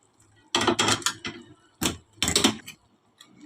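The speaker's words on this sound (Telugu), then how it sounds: "ఇప్పుడు ఈ తాలింపుని మనం పప్పులోకి ట్రాన్స్ఫర్ చేసుకుందాం" A few loud, close bursts of sizzling and scraping as hot tempering is tipped into a pot of raw-mango lentils, separated by brief quiet gaps.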